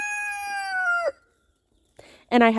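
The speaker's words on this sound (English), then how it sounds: "I have black Australorps." Black Australorp and barnyard mix chickens nearby: a loud drawn-out rooster crow, then a short pause and a few sharp clucks.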